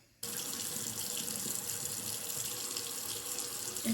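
Bathroom tap running into a sink while someone brushes their teeth, a steady close hiss of flowing water that starts abruptly after a moment of quiet and continues evenly to the end.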